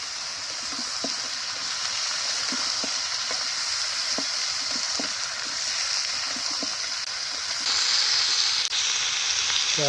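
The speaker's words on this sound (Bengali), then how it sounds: "কলাটা ওই তেলে ভাজিয়ে নেব।" Sliced green plantain fries in oil, a continuous hissing sizzle with faint repeated clinks of stirring at a steady pace, close and fairly loud, the sizzle swelling toward the end.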